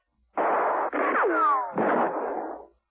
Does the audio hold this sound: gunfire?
yes